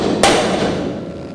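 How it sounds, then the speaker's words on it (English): One sharp hammer strike on a punch, marking layout holes on a panel in a 1949 Chevrolet gasser build, lands close and loud, then its ring fades out slowly. "We'll punch our layout marks"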